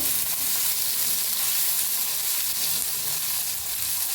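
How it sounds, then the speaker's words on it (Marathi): Mustard seeds and a pinch of asafoetida crackle and sizzle in hot oil at the start of a quick green chilli pickle, a loud, dense, unbroken frying hiss. "तापले त्याच्यात टाकूया मोहरी अर्धा चमचा बघा मोहरी टाकले टाकायचे हिंग"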